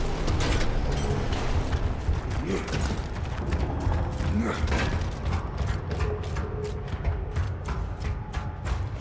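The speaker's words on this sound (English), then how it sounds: "Hit that button to open the door." Heavy prison door mechanism grinding open in the video game Gears of War, a dense, continuous loud churn of metallic clanks and creaks with rumbling underneath, steady throughout.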